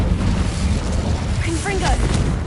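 A Confringo fire spell explosion in the Hogwarts Legacy video game: a booming blast with crackling bursts and whooshing magical tones, loud and close, with a voice speaking over it.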